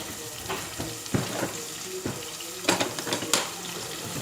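Onions and green peppers sauteing in oil in a pot at an outdoor cooking setup, a steady sizzle and frying hiss with a few sharp stirring clatters, over a busy background.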